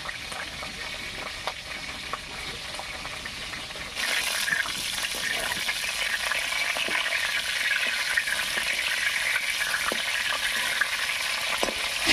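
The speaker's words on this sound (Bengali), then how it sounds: "এবারে করলাগুলোকে খুব হালকা করে ভেজে নেব তেলের মধ্যে" Bitter gourd pieces frying lightly in hot oil, a steady hiss that jumps louder partway through and then holds as a dense, bubbling sizzle with occasional pops, close by and with no talking.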